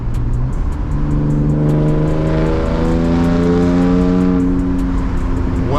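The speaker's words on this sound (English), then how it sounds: "I'm trying to downshift into third, rev match." Manual BMW E36 engine revving through a rev-matched downshift into third on hilly roads, heard from inside the car: a loud, steady drone that rises and shifts pitch as the revs climb, then settles, with no talk.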